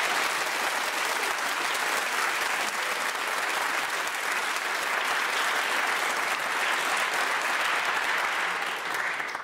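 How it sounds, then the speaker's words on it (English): A radio theatre audience at a quiz final claps in steady, dense applause that holds loud and even throughout before tailing off at the very end. "we and our radio theatre audience send you our heartfelt congratulations once again and this outgoing champion's round of applause."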